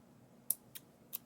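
Scissors snip through crochet yarn: three quick, sharp snips spaced unevenly over a second, close and crisp against a quiet room.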